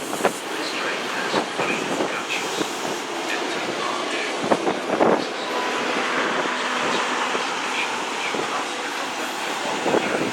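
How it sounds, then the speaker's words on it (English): A Great Western Railway Class 158 diesel multiple unit rumbles past at moderate distance at Bristol Temple Meads, wheels clicking over rail joints with a steady mechanical drone and occasional squeal. "158958 on a Great Western Railway service to Brighton."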